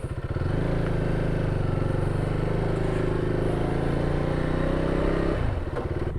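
A motorcycle is ridden at steady speed on a smooth surface, its engine droning in a constant close hum with a slight wavering pitch before it eases off near the end, no talking.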